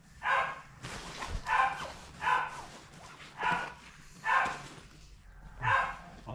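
A dog barks six times at roughly one-second intervals, each bark loud and close, with quiet gaps between and no talking.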